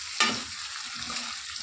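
Drumsticks (moringa pods) go into a simmering curry in a pan, bringing a soft sizzle and a brief clatter of stirring, quiet and close with no talking.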